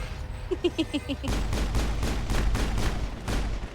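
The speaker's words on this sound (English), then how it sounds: "Press R to throw a grenade. And then press R again to detonate." A grenade in the video game Mass Effect goes off after a few short pulsing beeps, followed by a burst of rolling blasts and crackling debris, loud and sustained for a few seconds.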